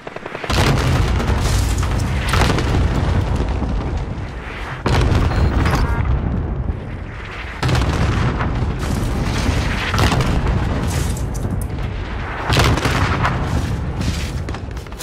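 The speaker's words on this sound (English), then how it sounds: "Cluster strike is active." Cluster airstrike in Call of Duty: Modern Warfare, a rapid chain of heavy booms and blasts rolling almost continuously for the whole stretch, loud and close, with brief dips between waves of impacts.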